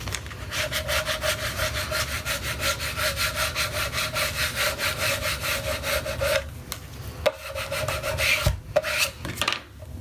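A scraper rasps back and forth across a painted wooden round sign in quick, even strokes at close range, then gives way to a few scattered scrapes and taps.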